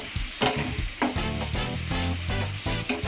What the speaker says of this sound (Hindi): अभी हमारा गोश्त अच्छे से फ्राई हो गया, लाल हो गया हमारा गोश्त।